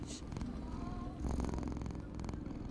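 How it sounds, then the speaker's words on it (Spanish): A cat purrs in the video game Jazzpunk, a soft rhythmic rumbling purr that pulses steadily close up and quietly throughout, with faint background game music underneath. "¿Por qué ronroneas?"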